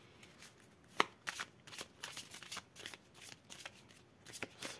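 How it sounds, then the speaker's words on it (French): A deck of tarot cards is shuffled by hand in a quiet room, giving a series of soft riffling flicks and taps in uneven bursts, with one sharper slap near the start. "si je bats les cartes avec les jeux de présentation"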